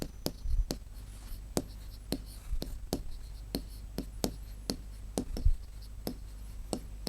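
A pen scratches across paper as a class 6 maths problem is worked out: a steady series of short, crisp strokes and ticks, close and fairly quiet, with no talking over it.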